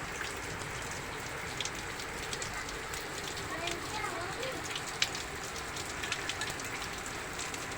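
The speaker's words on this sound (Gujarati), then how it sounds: "બહુ વરસાદ છે આજે" Steady, dense rain hiss with scattered drop impacts throughout, a constant heavy downpour close by.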